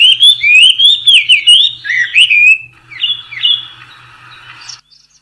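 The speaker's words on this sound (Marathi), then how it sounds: "सकाळच्या वेळी घरातील परसबागेमध्ये पक्ष्यांच्या मंजूळ गुंजनाने येणारी जाग सकाळ कशी प्रसन्न करून सोडते" Birds in a backyard garden chirp and whistle in the morning with bright, rapid, warbling calls and a few squawks, close and loud, fading toward the end over a faint rhythmic low pulsing in the background.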